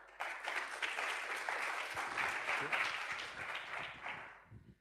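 An audience at a EuroSciPy scientific Python conference session applauds a speaker with steady, dense clapping for several seconds that tapers off near the end.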